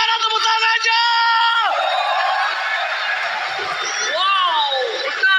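Esports arena crowd at Istora in Indonesia cheering, whooping and yelling loudly and continuously during a Mobile Legends match, with an announcer's voice carrying over the noise.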